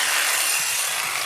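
Fine-tooth blade sawing through clamped sheet metal for a motorcycle battery box, a steady, dense rasping hiss that runs without a break throughout the short stretch, close and fairly loud.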